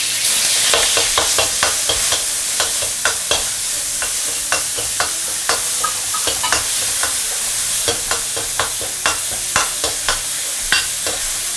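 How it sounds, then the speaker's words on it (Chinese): Minced beef being stir-fried in a hot wok with cooling oil, a steady sizzle broken by rapid, repeated scraping strokes of the spatula against the pan, close and loud throughout with no talking. "快速给它炒散"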